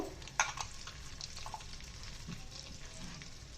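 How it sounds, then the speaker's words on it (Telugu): Cashews, coconut pieces and lima beans fry in a hot curry tempering of dried red chillies, curry leaves and asafoetida, making a soft, steady sizzle with a few stirring scrapes and one sharp clink near the start. "చిక్కుడు పిక్కలు వేసేసి ఒక 10 మినిట్స్ ఫ్రై చేసుకుందామండి."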